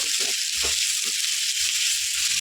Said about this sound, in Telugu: ఎక్కువ ఫ్రై అవసరం లేదు కొంచెం మెత్తపడితే సరిపోతుంది ఉల్లిపాయలు